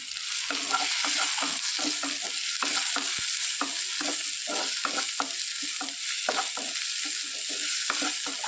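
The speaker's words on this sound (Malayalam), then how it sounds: "നന്നായിട്ടൊന്ന് ഇളക്കി ഒലിപ്പിച്ചു കൊടുക്കാം" Kerala-style fish roast masala with kudampuli being stirred in a pan: a steady bed of sizzling hiss broken by rapid, repeated spatula scrapes and clicks, close and busy throughout.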